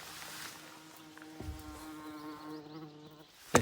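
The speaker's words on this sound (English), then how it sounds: "I guess we've got wasps in our heater." Wasps buzzing inside a cabin heater, a thin steady drone holding for several seconds beneath faint room noise, with a sharp knock near the end.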